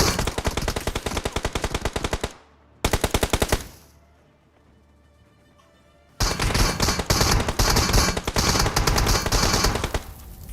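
Rapid bursts of M249 light machine gun fire in a battle royale shooter game, loud sustained automatic fire broken by a short pause and a quieter gap before another long burst.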